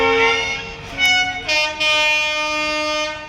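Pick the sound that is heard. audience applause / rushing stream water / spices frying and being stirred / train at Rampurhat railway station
train at Rampurhat railway station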